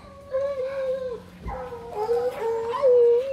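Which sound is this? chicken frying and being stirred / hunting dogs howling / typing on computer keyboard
hunting dogs howling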